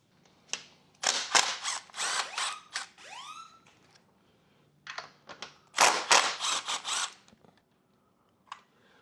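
A ratchet wrench turns 1/2 inch acorn nuts off the side markers of a motorcycle inner fairing in two loud, close bursts of rapid clicking separated by a quiet pause.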